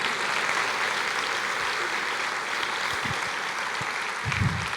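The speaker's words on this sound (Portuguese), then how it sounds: "Quantos podem aplaudir o Senhor e dizer" Church congregation applause during a worship service, a steady mid-level wash of clapping from many hands with faint voices underneath.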